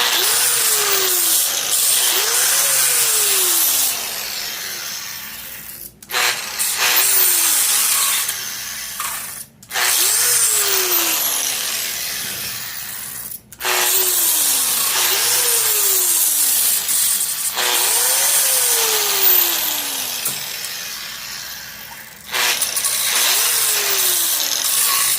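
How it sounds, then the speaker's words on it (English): An angle grinder fitted with a flap disc rounds off metal edges while installing an Autosports Engineering front-mount shifter, giving a loud, continuous abrasive roar broken by three short pauses and falling whines as the motor spins down. "Now I'm going to take a flap disc and just round those edges off."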